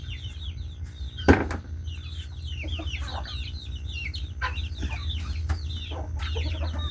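Chickens cluck and chatter at a small farm, several birds calling in short overlapping bursts over a low steady rumble, with one sharp knock near the start; no talking.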